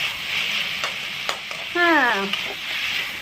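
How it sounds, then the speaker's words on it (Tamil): Tomatoes and green chilies sautéing in a pan give a steady broadband sizzle with a few stirring scrapes and clicks, while a short tonal voice-like or whistling sound rises briefly in the middle. "தக்காளி பச்சை மிளகாய் போட்டு இன்னொரு முறை வதக்கணும்."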